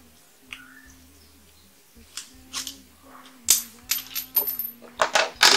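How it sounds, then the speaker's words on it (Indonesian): A small metal bolt from a PCP air rifle's trigger housing drops and bounces, sharp tinny clicks and clatters that grow busier and louder toward the end, close in a quiet room. "Bautnya jatuh, sebentar saya cari dulu."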